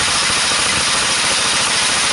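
An engine-driven DC generator runs at idle, a steady, close mechanical drone with a fine rapid pulse and no change in pitch or level.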